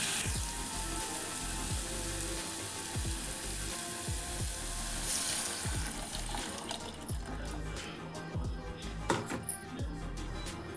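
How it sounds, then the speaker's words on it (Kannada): Thick peanut paste is stirred into fried masala in a pan for peanut sambar, giving a steady wet sizzle and squelch with repeated scraping thumps in an irregular rhythm, loud and close. "ಇವಾಗ ಶೇಂಗಾದ ಪೇಸ್ಟ್ ಮಾಡ್ಕೊಂಡಿದ್ದಲ್ಲ ಅದನ್ನು ಮಿಕ್ಸ್ ಮಾಡ್ಕೋಬೇಕು ರೀ"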